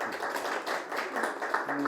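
An audience applauds at an education forum, continuous muffled clapping that stays fairly even and moderately distant, with a faint voice or tone near the end.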